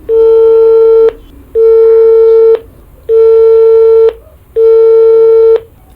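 Loud ringback tone on a phone call, four steady tones of about a second each, evenly spaced with short silent gaps between them.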